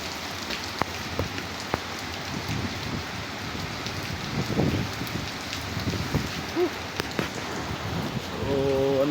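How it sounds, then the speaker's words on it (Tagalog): Heavy rain pouring down during a typhoon in Cavite, a dense, constant hiss with scattered louder drips and thumps that swell toward the end. "Lakas ng ulan guys oh."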